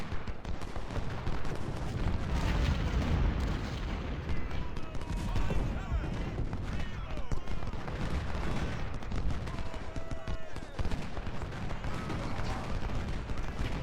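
Artillery and howitzers in Ultimate General: Civil War keep up a dense, continuous roar of cannon and musket fire, booming shots overlapping throughout with no pause.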